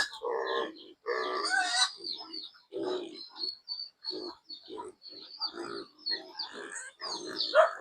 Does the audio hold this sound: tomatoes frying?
no